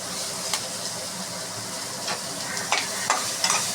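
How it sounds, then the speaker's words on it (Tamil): Finely chopped onions and curry leaves sizzle in hot oil in a pan, a steady close hiss broken by a few sharp pops and stirring scrapes, with no talking. "அடுத்தது வெங்காயம் போடுவோம், கருவேப்பிலை, பொடியாக நறுக்கினா வெங்காயம்"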